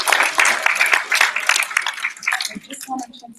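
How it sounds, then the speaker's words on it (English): Applause from a school audience for student poets at a poetry contest, a dense patter of clapping that fades out toward the end. "Let's give an extra special round of applause for all the students who wrote poems"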